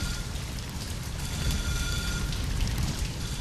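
Water sprays in the video game Silent Hill: Downpour, a steady, dense hiss like heavy rain or a shower that fills the whole clip at an even, fairly loud level without any talk.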